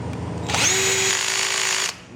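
A power drill drives a screw into a wooden floor joist, a single close, loud motor whir lasting about a second and a half before cutting off abruptly.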